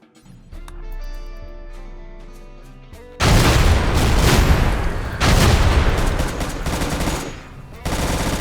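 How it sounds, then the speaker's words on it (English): Rapid autocannon bursts in the video game Rimworld, harsh dense rattling volleys that start abruptly after a quieter tonal stretch, loud and sustained with brief breaks. "Nothing surviving that auto cannon."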